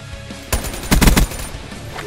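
Gunfire in the video game Black Ops 3: a sharp shot, then a quick close burst of several rapid rounds, fading into low ambient game noise.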